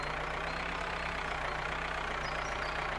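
A tractor engine idles in a farming simulation game, a steady, even mechanical hum that holds at moderate level throughout with no speech over it.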